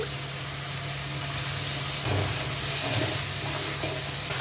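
Ginger garlic paste and a little water hit hot oil in a pan, giving a steady, even sizzle and hiss with a few soft stirring scrapes, close and alone.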